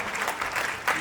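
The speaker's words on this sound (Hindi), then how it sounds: "एक बार जोरदार तालियां बजाइए भाई" A short burst of audience applause at a Hindi poetry gathering, brisk crowd clapping that is fairly close and lively, swelling slightly near the end.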